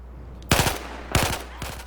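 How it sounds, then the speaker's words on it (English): A stationary mounted gun in Battlefield 4 fires three loud, short bursts spaced about half a second apart, each a quick cluster of sharp shots over a steady low background hum. "oh boy, look, another one of these in-place guns."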